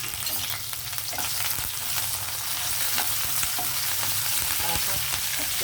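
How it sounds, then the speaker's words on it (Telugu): Garlic, cumin, mustard seeds, dried red chilies and curry leaves fry in hot oil for a coriander stem chutney, giving a dense, continuous sizzle up close with no talk. "వెల్లుల్లి వేడెక్కాయి, జీలకర్ర ఆవాలు వేసాను, అలాగే ఎండుమిర్చి"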